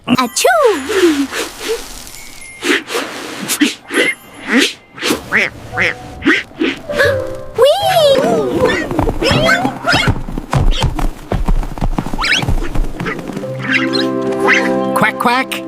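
A cartoon duck quacks repeatedly in bursts amid other lively animated character voices and effects, with exclamations and speech-like chatter mixed in.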